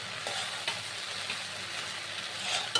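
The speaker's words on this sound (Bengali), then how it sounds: "এখন দিয়ে দেবো বেগুন আর আলু যেটা আমি ভাজি করে রেখেছিলাম" Fried eggplant and potato tossed into a pan of sizzling water spinach greens, a steady broad frying hiss throughout with a couple of faint utensil scrapes.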